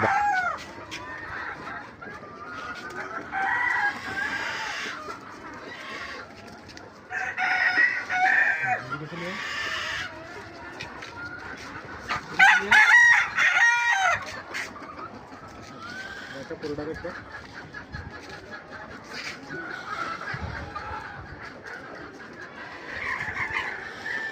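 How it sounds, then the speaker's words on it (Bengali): Chickens cluck and a rooster crows inside a netted poultry pen, a busy mix of calls rising and falling nearby, with a person talking over the birds at times. "দেখেন কত সুন্দরভাবে মুরগিগুলোকে আমরা ছেড়ে দিয়েছি"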